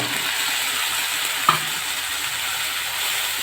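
Ground spice paste of ginger, cumin, coriander and chilli, soaked in water, goes into a hot wok for dry cabbage, giving a steady sizzle with one brief sharp hiss as it hits the oil.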